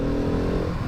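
A supermoto motorcycle with large, restrictive exhaust cans revs its engine, a dense, loud, continuous engine roar close by with no speech.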